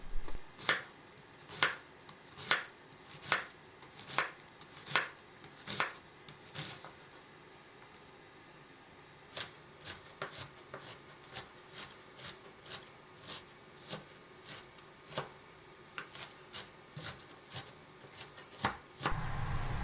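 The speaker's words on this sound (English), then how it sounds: "finely chop the onion" A knife finely chops onion on a cutting board in rapid, regular close taps, with a short pause midway before the chopping resumes, and no voices.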